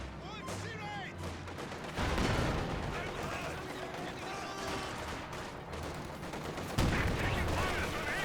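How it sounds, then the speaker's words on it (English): A Pak 40 anti-tank gun firing on a T-34-85 tank in Company of Heroes 2 produces a sharp cannon blast around two seconds and another near seven seconds, over a background of battlefield gunfire, with a voice talking throughout. "Pack 40 does connect onto the T-34-85"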